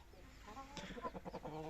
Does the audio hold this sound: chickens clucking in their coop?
yes